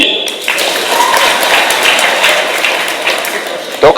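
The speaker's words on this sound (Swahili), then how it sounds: "Makofi" Applause from a crowd at a Kenyan political gathering, a broad, continuous patter of clapping with some sharper taps, steady and fairly loud from start to finish.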